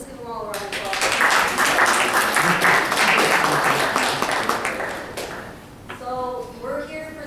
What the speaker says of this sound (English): So let's just give them all a round of applause.